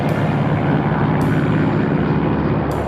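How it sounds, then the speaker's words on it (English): A single-engine Saratoga propeller plane drones steadily and loudly, a continuous engine roar that holds level the whole time with no voices. "The Saratoga is a single-engine propeller plane."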